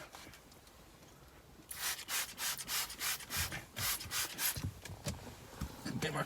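A cloth scrubs rapidly back and forth across a wet car window while sunstrip tint is being fitted, a close, rhythmic rubbing that starts after a quiet opening and keeps going steadily.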